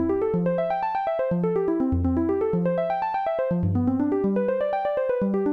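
A synth arpeggiator steps rapidly through notes of a soft pad chord progression over two octaves, a clean, even, continuous pulse of bright tones at moderate level.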